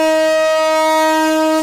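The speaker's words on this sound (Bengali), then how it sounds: "ট্রেনের হুইসেল বাজতেই কমলাপুর রেল স্টেশনে উচ্ছ্বাস" Train whistle at Kamalapur railway station, a loud steady horn blast held close for nearly two seconds before it cuts off, with no voices over it.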